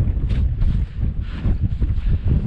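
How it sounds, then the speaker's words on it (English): Strong wind gusting across an exposed mountain campsite in the Mourne Mountains, a steady low roar swelling and easing in repeated surges close to the microphone, with no speech. "them gusts to just pick straight back up."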